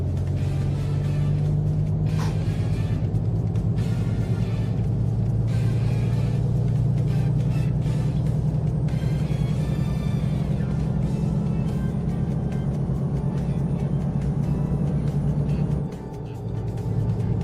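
A car drives along with a steady, loud low engine drone and road rumble that holds for many seconds, then dips briefly near the end, with no voices.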